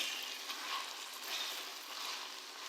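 Chicken frying in a pot for pulao gives a continuous close sizzle with gentle swells and faint stirring, heard alone without any voices.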